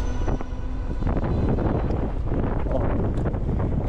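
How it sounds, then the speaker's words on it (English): Strong wind buffeting the microphone while riding a Raev Bullet GTX electric bike outdoors, a loud, continuous roaring rumble with gusty fluctuations throughout. "it is windy today"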